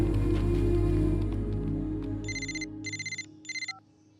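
A mobile phone rings in three short electronic bursts with a steady pattern, rising in over a fading low hum of background music from a Telugu romantic comedy film scene.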